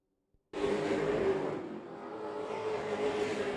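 Several race cars bunched together on an oval track during a late-race battle, a sustained loud roar of engines that bursts in abruptly after a brief near-silence and holds steady, swelling slightly as the pack goes by.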